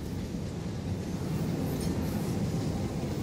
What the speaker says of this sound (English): The train moves overhead. It can be annoying sometimes. It's very loud, can obscure some sounds.